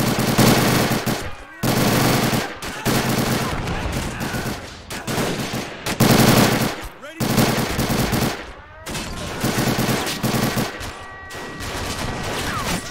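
Machine gun fire in the Men of War: Assault Squad video game, set in a 1944 battle for a Pacific airfield on Saipan, comes in long loud rattling bursts separated by brief gaps, with a voice faintly under the gunfire.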